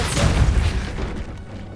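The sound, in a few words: Depulso spell being cast, from the video game Hogwarts Legacy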